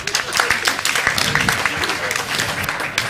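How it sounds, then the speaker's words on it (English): An audience at an international tourism summit gives a panel a burst of dense, steady applause, many hands clapping close and loud across the whole stretch. "I think this panel deserves more applause."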